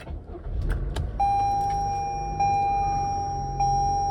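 A Toyota or Lexus engine started with the push button: a few clicks and a short whirring crank, then a steady idle hum with a faint tone chiming at regular intervals.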